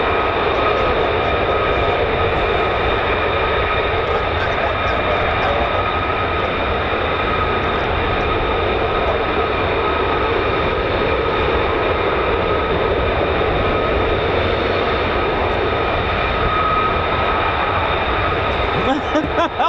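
US Air Force F-15 and F-35 fighter jets make quick climbs out of RAF Lakenheath, a loud, sustained jet roar with steady high whine lasting throughout, with brief speech late on.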